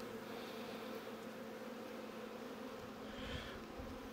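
Honeybees drone steadily at an open hive during an inspection in spring, a dense continuous buzz held close and even throughout with no talking.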